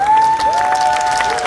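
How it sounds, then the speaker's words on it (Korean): Applause rises from the audience at a biennale opening ceremony at the Gimhae cultural arts center. It is brief and scattered, sitting under a steady, sustained pitched tone that dominates the moment. "박수 한번 부탁드립니다"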